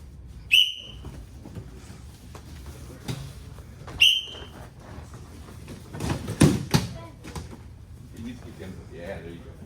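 Two short, sharp whistle blasts about three seconds apart during an MMA class for kids and adults, with background noise and some faint movement sounds in between.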